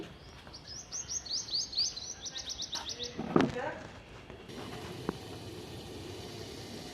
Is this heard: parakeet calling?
yes